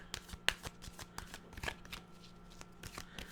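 Oracle cards, including an animal deck, are shuffled softly and steadily in a quiet room, with a run of light flicking and riffling taps and no talk.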